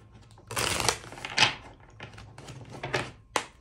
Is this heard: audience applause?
no